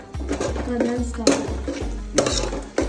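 Onion and garlic cooking in a pan while being stirred, with a soft sizzle and regular scraping strokes of the spoon against the metal, close and fairly loud, and a voice speaking over it.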